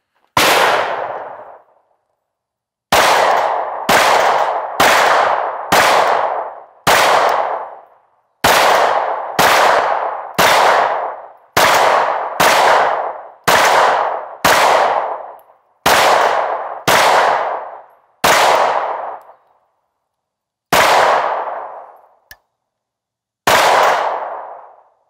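An IWI Masada pistol fires Winchester 124 grain NATO rounds in about seventeen loud, sharp shots, spaced unevenly with short pauses and each ending in a ringing tail.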